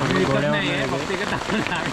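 Heavy rain pours steadily at a Matheran hill station roadside stall, a dense broadband wash with people talking over it throughout.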